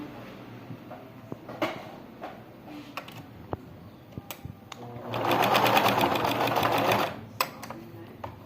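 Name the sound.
sewing machine stitching a baby shoe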